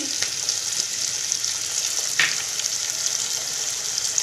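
Julienned ginger and garlic fry with tomato sauce in a pan for a restaurant-style chilli mushroom dish, giving a steady, continuous sizzle with a brief louder spatter partway through.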